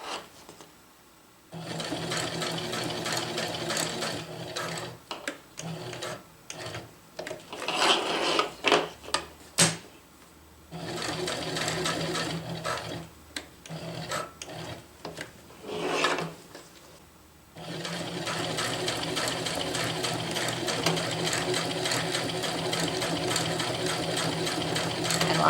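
A sewing machine stitches diagonal lines across a water bottle carrier, running in long steady bursts with short pauses and rattling stops between passes, then a long continuous run at the end.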